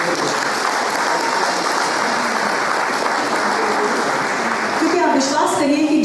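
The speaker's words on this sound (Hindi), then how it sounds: "मैं चाहती हूँ उस पत्रकार के लिए भी ताली होनी चाहिए" A crowd at a public talk on justice breaks into sustained applause for a journalist, a thick, even clatter of clapping, before a voice starts speaking near the end.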